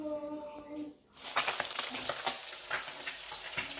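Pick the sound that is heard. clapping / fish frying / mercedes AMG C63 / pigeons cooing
fish frying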